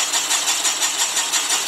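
A honing machine works inside the cylinder bore of a Willys engine, a loud, steady mechanical whir that pulses rhythmically as the stones stroke up and down.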